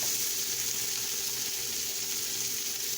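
Bacon sizzles and fries steadily in a pan, a dense, continuous crackling hiss that holds at an even, close level throughout with no voices over it.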